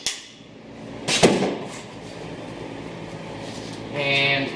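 A ring gear side adjuster on a differential is loosened by one notch, giving a single sharp metallic clank close by against a steady background hum.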